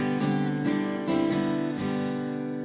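A guitar plays a short ringing intro phrase in plucked notes with sustained tones, close and clear, with no talking.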